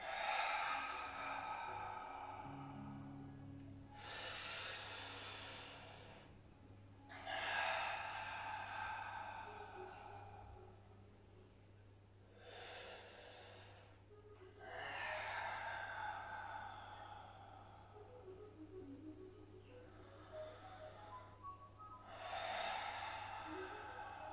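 Slow, deliberate breaths during a stretching exercise: about five long, close inhales and exhales, each a breathy rush lasting a couple of seconds, separated by brief pauses over a low steady hum.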